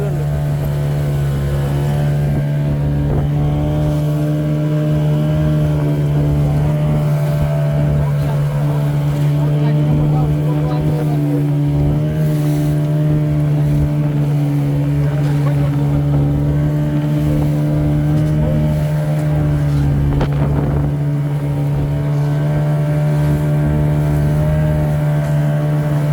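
A motorboat travelling out at sea off Mullivaikkal, its engine holding a loud, steady low drone throughout, with water and wind noise and occasional voices underneath.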